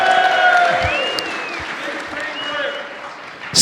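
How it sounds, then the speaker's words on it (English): Live audience at a tech conference podcast show clapping and cheering, a dense steady wash of applause with a few whoops, under a host's amplified voice that carries over it before fading toward the end. "Huge round of applause for Scale."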